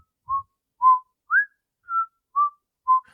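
Six short, clear whistled notes in a steady, unhurried rhythm, one rising slightly in pitch, with silence between them.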